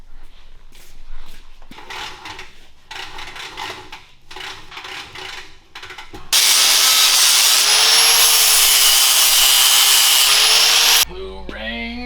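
Angle grinder cutting metal for a shaker table build, a loud sustained high whine that starts abruptly after several seconds of quieter workshop handling noises and cuts off near the end.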